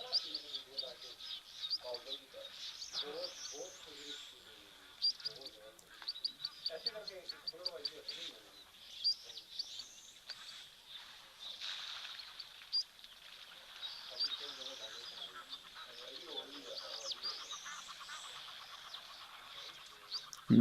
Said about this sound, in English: I can hear the geese, I can hear the birds going.